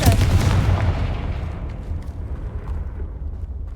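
Confringo fire spell exploding in Hogwarts Legacy, a loud booming blast that rumbles and slowly fades over a few seconds, with no speech over it.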